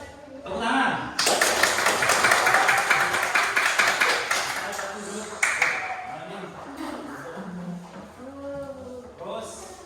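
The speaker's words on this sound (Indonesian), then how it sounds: "Betul, bagus, tepuk tangan." Classroom applause for a group presentation, a burst of many hands clapping together that starts suddenly, holds dense and fairly loud for several seconds, then fades as voices take over, with talk before and after.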